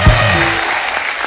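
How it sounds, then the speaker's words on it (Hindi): A studio audience claps loudly to welcome guests on a Hindi comedy talk show, a short burst that fades within about a second. "जोरदार तालियां हमारे मेहमानों के लिए"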